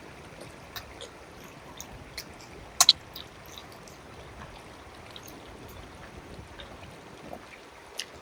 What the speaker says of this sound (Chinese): 我觉得听溪流的声音真的好舒服哦